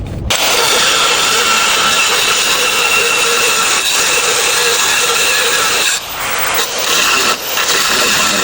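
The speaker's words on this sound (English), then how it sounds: "if you got a decent plasma cutter" A plasma cutter on full power cuts metal on a totaled Ford Bronco under repair, a loud, steady, close roaring hiss that runs almost without pause, with a couple of short dips near the end.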